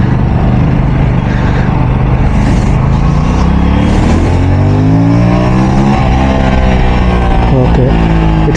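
A GT650 or Aprilia 457 motorcycle engine revs up and down close by, loud throttle blips rising and falling in pitch over a constant rumble, while someone talks over it.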